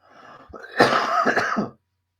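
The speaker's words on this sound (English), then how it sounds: "I'm coughing." A person nearby clears their throat and coughs in a short, raspy burst, then falls silent.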